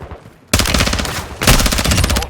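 Sustained automatic gunfire in the video game Warzone DMZ, loud and continuous rapid bursts with a brief pause before a second stretch of fire, no talk.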